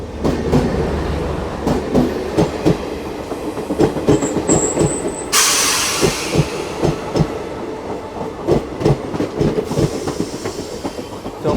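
Narkher Intercity Express train departing a station, with a steady rumble and repeated clickety-clack of wheels over rail joints, a brief bright screech partway through, heard close and continuous without talk.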